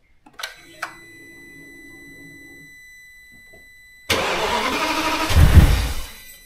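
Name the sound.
Audi S6 V10 engine cranking and starting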